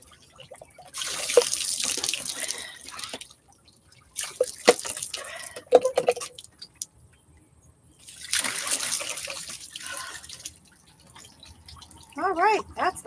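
Tap water pouring and splashing while red L'Oréal hair dye is rinsed out, coming in three separate runs of flow with quieter gaps, and someone speaking briefly in between.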